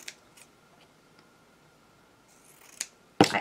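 Scissors snip through fabric for a no-sew shabby chic pouch, a few crisp separate cuts spaced out over quiet moments, the last one louder and closer.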